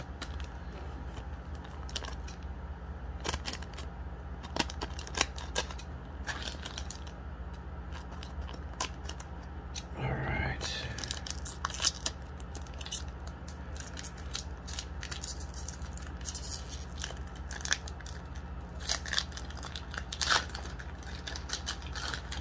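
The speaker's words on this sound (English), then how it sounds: "I have to use a scissor now." Scissors snip open Japanese Pokemon Jet Black booster packs, a few short crisp cuts and crinkles of foil wrapper close by, with a louder rustling cut near the middle, no talking.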